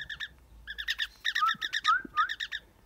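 Pet mynah bird calling indoors, a close series of quick bright chirps and whistled notes in rapid bursts with short gaps, loud and alone without any talking.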